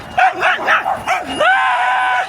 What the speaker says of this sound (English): That is the loudest dog I've ever heard.